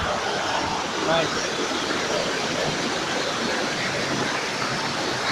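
Water pours steadily at the Psilo Tendro waterfall, a broad continuous rush heard from fairly near, with a faint voice briefly under it.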